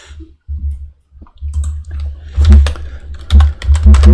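Bursts of keyboard typing, quick clattering keystrokes in uneven runs, close and fairly loud, with brief pauses between flurries.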